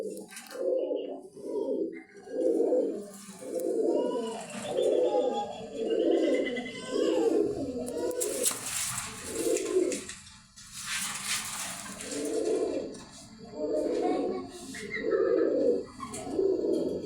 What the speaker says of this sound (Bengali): এই যে জোড়া আছে রাজগোল্লা কবুতর